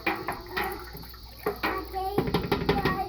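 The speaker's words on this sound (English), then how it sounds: "we're just going to stir it in up and down motion to make sure that the rennet gets all the way through." Rennet being stirred through a pot of coagulating milk with an up-and-down motion, giving soft liquid sloshes and swishes in a short rhythmic series, fairly close.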